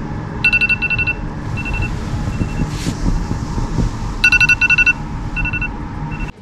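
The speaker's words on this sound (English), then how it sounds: "The 4 a.m. alarm has just gone off" An early morning 4 a.m. alarm in a hotel in Buenos Aires beeps in quick rapid bursts, two clusters of sharp repeated tones over a steady low rumble of background noise.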